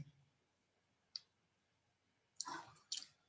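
A computer mouse clicking, one sharp faint click followed by a couple of louder clicks close together, in an otherwise quiet room with no voices.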